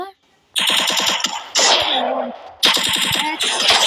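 Rapid bursts of gunfire from a mobile shooter video game, loud and close, coming in three volleys separated by short gaps, with game sound effects and announcer-style voice cues mixed in.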